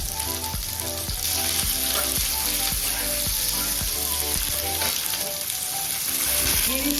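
Dried red chillies, cumin, chopped onion, garlic and ginger fry in hot oil, a loud, close, constant sizzle with a regular rhythmic tapping of a spatula against the pan throughout, no voices.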